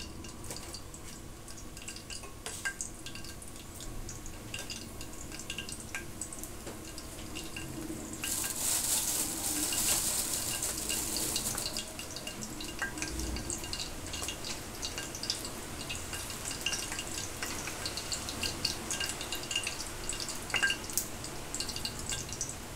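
Whole cumin seeds sizzle in hot oil in a home kitchen pan, a soft steady crackle and hiss that swells briefly partway through, with no talking.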